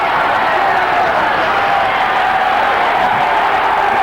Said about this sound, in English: Crowd urging Holmes on